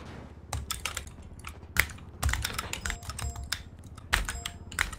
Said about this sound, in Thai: ที่เสียงคีย์บอร์ดใครวะมันจะพังป่าววะ